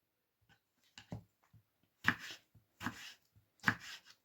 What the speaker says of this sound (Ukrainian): Нарізати помідорки, в мене сливки.